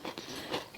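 A single close, crisp crunch as a deep-fried snack made of semolina, yogurt and sugar is bitten, brief and dry with no talking.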